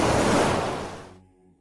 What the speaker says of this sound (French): plus on se rapproche de la plage, plus il y a de vagues